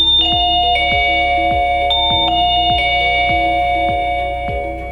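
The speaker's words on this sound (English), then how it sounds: "Now press the button on the doorbell camera, then the chime will sound the selected ringtone." A wireless chime from an EL-IP09 solar video doorbell camera and chime set plays its selected melodic ringtone: bright stepping tones over a steady, repeating pulsed beat, loud and close with no voices.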